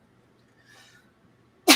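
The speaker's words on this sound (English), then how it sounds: "I may sneeze." A single sharp human sneeze at close range, sudden and loud after a faint breathy intake, ending the otherwise quiet moment.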